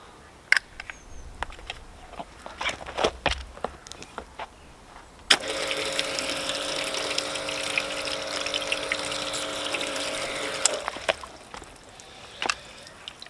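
Water gushes in a steady hissing rush for about five seconds as it floods a painted front wing panel of a BMW M4 coated with PTFE wax, framed by scattered close clicks and handling noises before and after.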